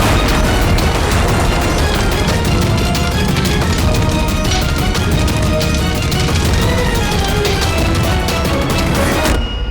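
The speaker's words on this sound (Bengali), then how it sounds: "ও নো, বুম! পালাও এখান থেকে।" A loud, sustained blast and crash from an explosion in a TV crime drama fills nearly ten seconds with dense, roaring noise and crackling debris, then cuts off abruptly at the end.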